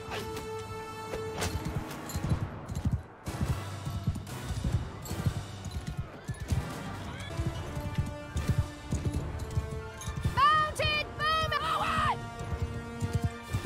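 Horse archers' mounts moving across a battle in Mount & Blade II: Bannerlord, a busy clatter of hoofbeats and galloping under game sounds, with a horse whinnying near the end and someone talking over it.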